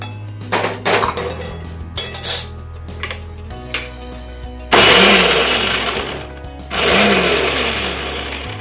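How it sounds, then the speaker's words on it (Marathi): A kitchen mixer grinder coarsely grinds garlic and green chillies in two short loud whirring bursts, after clattering as the jar is handled. "चला मिक्सरच्या भांड्यात काढून अर्ध बोगडं लसूण आणि मिरची करून घेऊया."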